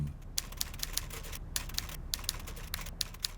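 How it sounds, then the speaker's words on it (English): A typewriter clacks in a neighbouring room, its sharp keystrikes coming in quick irregular bursts with brief pauses, muffled and moderately distant over a low room hum. "we heard a typewriter being used in a neighbouring room"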